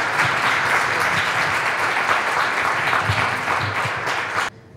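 Steady, dense audience applause at a talk on forgiveness with Andrew Collins and Jameel McGee, many hands clapping evenly throughout before cutting off abruptly at the end.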